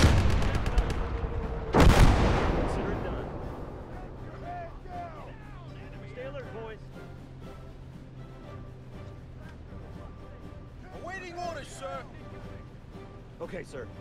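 In a tank video game, a loud, crunchy explosion booms early, followed by rumbling and scattered distant blasts and engine noise, with people talking over it.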